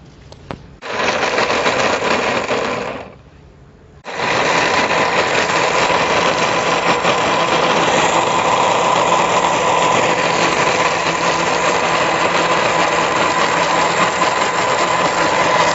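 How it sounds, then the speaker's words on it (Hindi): Electric juicer grinder whirring steadily as it blends green cardamom pods that were soaked in water, loud and continuous after a short start, with a brief pause before it restarts and runs on. "जूसर में डालूँगा।"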